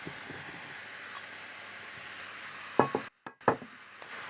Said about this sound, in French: J'ajoute ensuite le potiron coupé en morceaux.